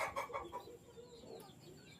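A Boston Roundhead gamefowl rooster gives a few soft, quick clucks up close, very faint and brief, with quieter clucking trailing off afterward.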